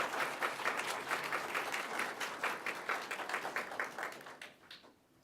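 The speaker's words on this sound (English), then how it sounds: "let's have a round of applause for our horseball team." An audience at a 4-H awards program applauds the horseball team, dense clapping from many people that is steady and fairly close, thinning into a few scattered claps before fading at the end.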